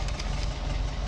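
A 1924 Swift 10hp car with an 1100cc side-valve engine idles, giving a steady, rhythmic low chugging with quick regular pulses. It is heard close up for a brief moment.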